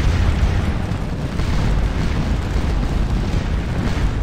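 Artillery fire across a Waterloo battlefield in Scourge of War: Waterloo forms a dense, continuous rumble of booming cannon that stays loud and steady throughout, with no pauses and no voices.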